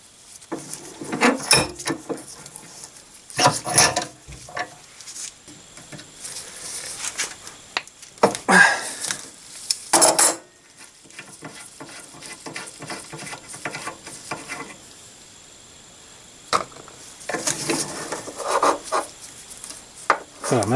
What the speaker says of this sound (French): Je vais en profiter aussi pour nettoyer le raccord banjo et le raccord où vient se fixer le tube rigide